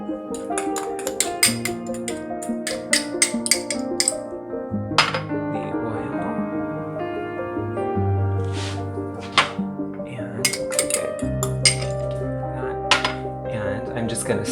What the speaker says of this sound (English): I'm just going to stir these in.